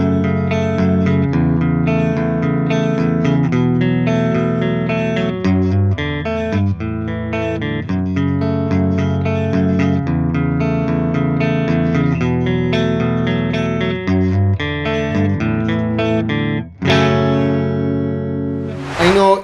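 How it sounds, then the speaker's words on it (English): Jackson JS32T electric guitar playing clean tones with chorus-like shimmer and reverb, ringing picked chords and melodic notes played continuously, ending in a brighter strummed flourish. "And now let's hear the clean tones of the guitar."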